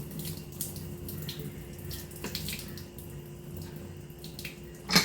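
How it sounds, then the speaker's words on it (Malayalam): Water pours steadily from a pressure cooker pot, a continuous splashing trickle like liquid running into a sink, with a brief clatter near the end. "കുറച്ച് വെള്ളം അങ്ങോട്ട് ഒഴിവാക്കാം ഇങ്ങനെ ഇതുപോലെ ഒഴിവാക്കാം"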